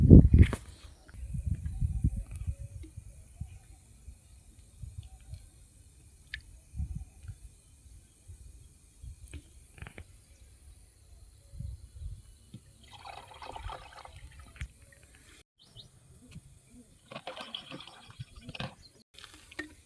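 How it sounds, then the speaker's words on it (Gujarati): Pesticide is poured into a farm sprayer pump tank already partly filled with water, giving quiet, intermittent liquid glugs, splashes and drips with some handling knocks in between. "હવે નાખવાની છે દવા. તો જો હું દવા નાખું છું."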